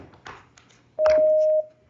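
Telephone keypad tones during a county board of supervisors meeting: a few brief beeps with faint room noise, then one long steady tone as a call is placed on speakerphone.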